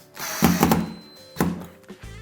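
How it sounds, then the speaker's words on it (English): A cordless drill drives a screw through a floating-shelf bracket into a wall plug, giving two short whirring bursts with thunking knocks, close by and fairly loud. "take your cordless drill and drive it in"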